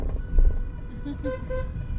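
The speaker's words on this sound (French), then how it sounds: "C'est le klaxon qui va parler à ma place." Car horn honking in short toots at a wedding celebration, a few distinct blasts over crowd murmur and chatter, with people talking nearby.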